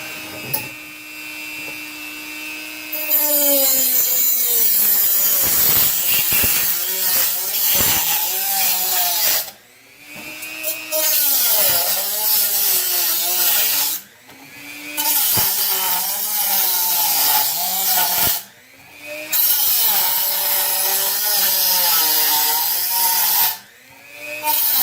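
A power tool saws through wood, loud and sustained, in several long cuts separated by brief pauses after a quieter motor hum at the start.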